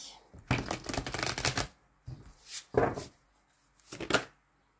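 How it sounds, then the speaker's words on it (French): Cards shuffled and drawn from a manifestation deck in a tarot-style reading, with several loud, close riffling bursts separated by short pauses. "on va prendre une petite carte de manifestation également"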